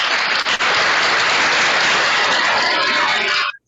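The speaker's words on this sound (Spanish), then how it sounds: "recibamos con un fuerte aplauso a Miguel Mosquera Pans." An audience at a César Vallejo award event applauds to welcome Miguel Mosquera Pans, loud dense clapping filling the room and cutting off abruptly at the end.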